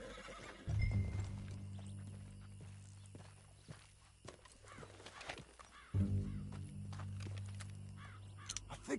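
A horse neighs twice in long, loud whinnies while its hooves clip-clop nearby, with scattered steps and rustling between the calls.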